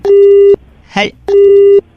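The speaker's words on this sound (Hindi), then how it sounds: "कोई सिग्नल में प्रॉब्लम लग रहा है, फोन कट गया था" A telephone busy tone after a dropped mobile call sounds as two steady, loud electronic beeps separated by a short burst of voice.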